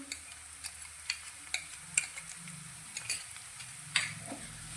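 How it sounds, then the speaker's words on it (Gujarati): Ginger, chili and garlic paste sautés quietly in a pan, a faint sizzle under a series of sharp spatula taps and scrapes. "अने तेने पण आपणे एकाद मिनिट जेवुं सातળी लईशुं"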